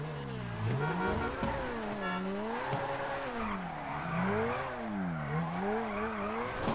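A car drifts down a mountain road in GTA V, its engine revving up and down in repeated wavering sweeps while tires squeal through each slide, loud and steady with no talk.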